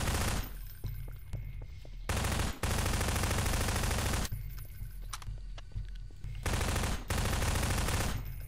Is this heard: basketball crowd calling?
no